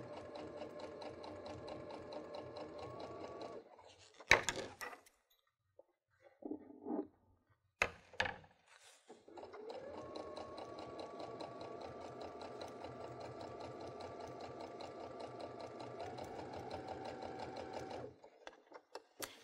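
A Baby Lock sewing machine hems a straight fabric edge with a hemmer foot, stitching at a moderate pace in two long runs of rapid, even whirring, separated by a pause with a few clicks and handling knocks.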